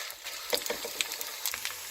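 Gond, an edible gum, sizzles and crackles as it fries in ghee, with soft irregular pops and a steady hiss at low volume.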